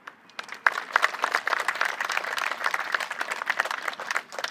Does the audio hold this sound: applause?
yes